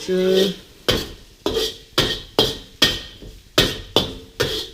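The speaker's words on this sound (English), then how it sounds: "Give that another stir." A spoon stirs coconut rice in a pan over low heat, giving about eight separate scraping, clattering strokes in a steady rhythm, close and fairly loud with no voices.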